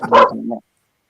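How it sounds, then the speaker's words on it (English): A single short, sharp bark from a dog called PP, close and indoors, ending abruptly and followed by silence. "Okay, stop barking, PP."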